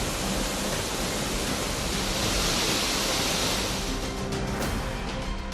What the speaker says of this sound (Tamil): கன்னியாகுமரி மாவட்டம் திருப்பரப்பு அருவியில் வெள்ளம் ஆர்ப்பரித்து கொட்டுவதால்